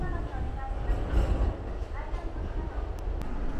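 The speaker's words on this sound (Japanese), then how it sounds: "中央線の電車に乗り、大阪港駅から弁天町駅に移動しました。" An Osaka Metro Chuo Line train running between Osakako and Bentencho stations gives a steady low rumble and rolling rail noise from inside the car, with faint voices or background chatter in the carriage.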